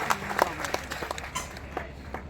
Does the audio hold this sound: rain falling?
no